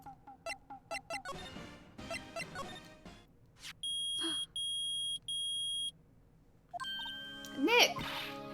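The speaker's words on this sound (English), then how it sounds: "It's beeping! The metal detector found something!" A metal detector beeps in the video game Phoenix Wright: Ace Attorney. Three long, steady electronic tones sound in a row with short gaps between them, set among other game sound effects, quick blips and short bursts of chatter.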